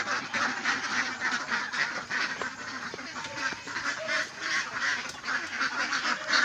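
A flock of ducks being let out toward a rice field, dense continuous quacking and honking from many birds close by, loud and steady throughout.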